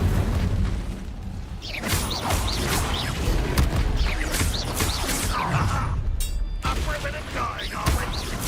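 In the Hogwarts Legacy video game, Incendio fire spell blasts burst amid chaotic combat, dense booms, crashes and whooshes piling up loudly, with voices speaking among the effects.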